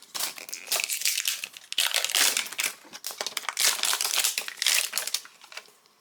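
Plastic packaging of MiniVerse Halloween capsules is crinkled and torn open right at the mic, a loud, continuous rustling and crackling with no talking.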